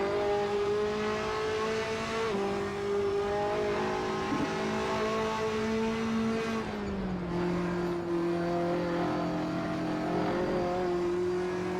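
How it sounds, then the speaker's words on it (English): A Ferrari 458 Italia in a racing sim video game holds a loud, sustained high-revving engine note with clear harmonic pitch that drops around the middle as the car shifts or lifts, then steadies again. "Lyndon, this is only a 458 Italia"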